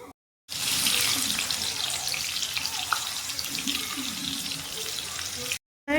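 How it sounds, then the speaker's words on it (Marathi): Pieces of suran, elephant foot yam, fry in hot oil in a kadhai with a loud, continuous close hiss that starts abruptly and cuts off after about five seconds, with a few faint bubbling pops underneath. "आता सुरण फ्राय करून घेऊया."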